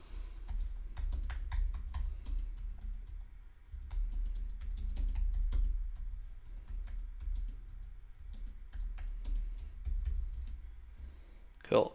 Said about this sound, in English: I'm just typing this out quickly